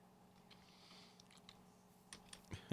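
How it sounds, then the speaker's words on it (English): Computer keyboard typing during a Minecraft FTB Infinity Evolved session, heard as faint, scattered clicks over a low hum, ending in a louder cluster of keystrokes. "My bad typing."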